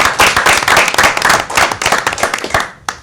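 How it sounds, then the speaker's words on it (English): An audience claps heartily for a student honored for his college acceptance, loud, close, dense applause that fades out toward the end with a final stray clap. "I just want to give him a big round of applause"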